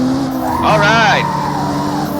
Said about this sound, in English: Alright, perfect shift. Over revved it there.